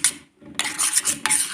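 Three eggs with masala being beaten in a bowl for an omelette, giving bursts of brisk scraping and clinking of utensil against the dish, separated by a short pause, with no talking.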